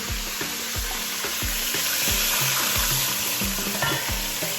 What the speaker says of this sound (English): Now it's bubbling up because the pan is nice and hot